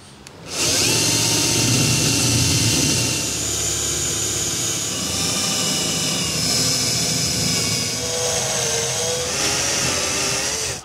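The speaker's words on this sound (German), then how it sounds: "Jetzt weiß ich, dass ich nur so tief bohren darf" A power drill whines steadily as it bores into wood, loud and close, running continuously with slight shifts in pitch and no talking.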